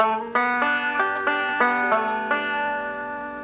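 A bright plucked bluegrass banjo phrase of quick notes in a forward-backward roll, each new pluck ringing into the next in a flowing rolling pattern, close and clear with no talking.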